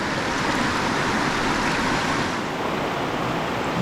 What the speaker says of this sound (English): And it just bubbles out just right there